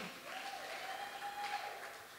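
Soft, distant clapping from a church congregation, faint but sustained throughout, with a thin sustained tone running through the middle.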